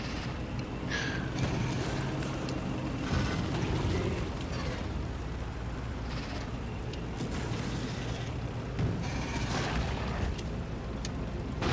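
Cannon fire at biters in Factorio, a dense continuous rumble of booms and explosions layered over one another for the whole stretch, loud and steady with no talk.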